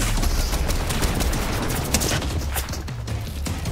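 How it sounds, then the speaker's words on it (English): Dense, continuous gunfire from a video-game firefight, with enemies above firing down on the player; a steady barrage of overlapping shots and bursts runs loud throughout, with no clear speech over it. "Oh, there's people up there now shooting at us."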